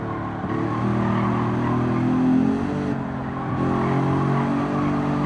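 A race car engine in Gran Turismo 7 accelerates with a steady rising drone, dipping and climbing again as gears change, loud and continuous without speech.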